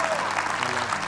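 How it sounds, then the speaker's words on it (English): A live audience claps warmly at a gathering full of cheers of hallelujah. The applause is dense and steady across a brief moment, fairly close and loud. "give Michael a great big hand clap, would you?"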